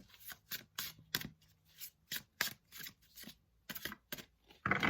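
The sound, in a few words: shuffling tarot cards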